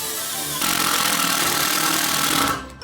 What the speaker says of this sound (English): It's literally a jackhammer, I swear.